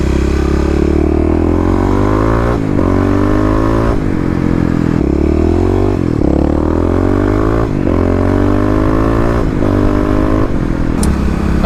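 A Kawasaki KLX351 motorcycle with EFI rides on the main road, its loud engine rising and falling through repeated gear shifts, close to the rider with wind rush throughout.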